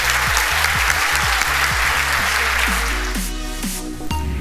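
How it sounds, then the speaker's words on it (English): An awards-ceremony audience applauds loudly, with a dense, sustained wash of clapping as music plays beneath it and thins slightly toward the end. "give her a big round of applause"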